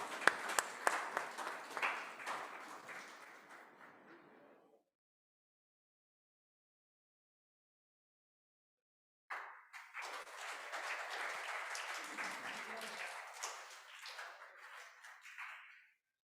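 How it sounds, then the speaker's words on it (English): A lecture audience gives a speaker a round of applause in two bursts separated by several seconds of silence, the clapping fading out at the end of each burst. "I would request the audience to give him a big round of applause"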